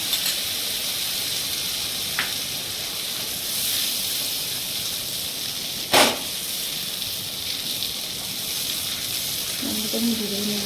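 A paste of ginger, green chili, garlic, onion, almond and pistachio fries in hot oil, giving a steady soft sizzling hiss with a brief sharp clatter midway and faint sounds near the end.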